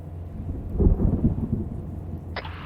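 A low rumble of thunder rolls beneath steady rain hiss in the video game ARMA, swelling then fading, with a brief higher-pitched shift at the end.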